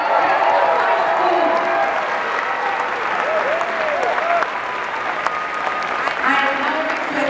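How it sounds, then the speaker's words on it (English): Sustained audience applause at a kindergarten annual concert at Credence High School, a dense, steady clapping from a large crowd that fills the whole stretch with cheers mixed in. "a big round of applause to the blooming buds of"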